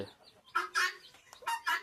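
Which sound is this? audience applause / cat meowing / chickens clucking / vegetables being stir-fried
chickens clucking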